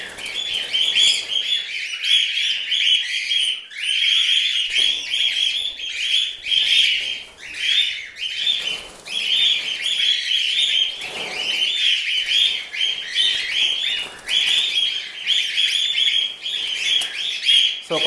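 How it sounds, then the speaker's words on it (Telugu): A breeding colony of albino cockatiels fills the air with dense, shrill chirping and calling that runs continuously, many birds overlapping close by with no talk. "దీంట్లో అయితే ఆల్మోస్ట్ అన్ని మనకి ఆల్బినో కాక్టైల్స్ ఉన్నాయి అనమాట"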